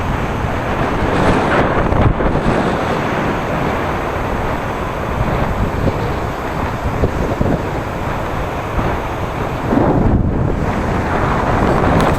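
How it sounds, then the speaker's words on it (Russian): A loud, steady roar of ocean surf on a South Vietnam shore, mixed with heavy wind buffeting the microphone, continuous throughout with no voices. "Море сегодня слишком шумное."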